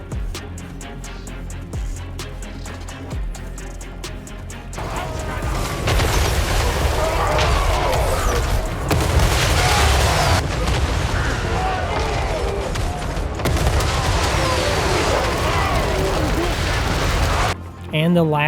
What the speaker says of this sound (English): it just fires 2 big napalm rounds out each side